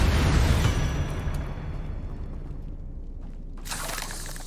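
A deep rumbling blast from a Confringo fire spell in Hogwarts Legacy, loud at first and decaying slowly into a low roar, with a brief crackle near the end and no talking.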